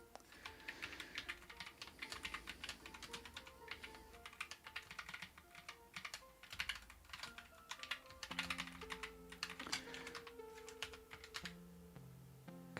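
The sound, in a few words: typing on a computer keyboard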